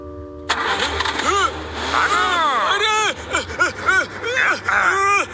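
A car engine cranks and catches, then revs up and down in bursts as a stolen car speeds away in a cartoon chase, loud and close, with strained vocal sounds mixed in.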